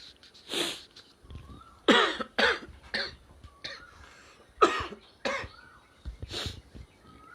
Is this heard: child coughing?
yes